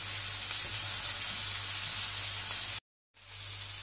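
Mushrooms frying in a pan, a steady, close hiss and crackle of sizzling oil that cuts out briefly near the end and then resumes.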